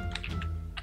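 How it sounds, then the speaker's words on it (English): A loud computer keyboard typed in brisk, uneven clatter, close and clear, heard alone without voices during a gaming chat session. "your keyboard is so loud"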